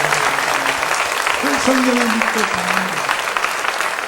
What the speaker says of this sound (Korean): 박수로 하나님께 영광합니다.